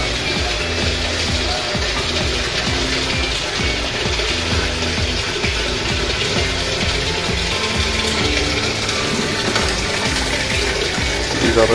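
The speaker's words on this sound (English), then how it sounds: "Here is the pump. It takes the water up from these pipes." A water pump in an LED indoor farming setup draws water up from pipes into a tank, a loud, continuous gushing hum with a steady mechanical drone beneath it.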